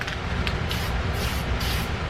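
A spray can hisses steadily onto a Dollar Tree teapot being altered in shabby chic style, a loud continuous close-up spray with slight pulsing surges throughout.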